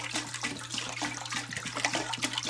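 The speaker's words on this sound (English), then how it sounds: "I'm just filling this one bowl up with water." Water runs steadily from a tap into a bowl in a home kitchen while green beans are prepared for canning, a moderately loud continuous rushing stream with no talking.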